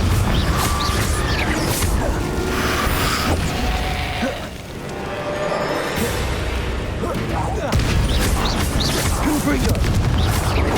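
Repeated booming fire-spell explosions from Hogwarts Legacy combat, dense and loud throughout, mixed with other spell effects and a continuous busy game soundscape.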